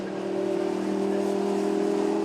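GT Cup race cars accelerating out of a corner at Snetterton in heavy rain, engines droning steadily and fairly loud with a sustained, slightly rising tone throughout, no speech.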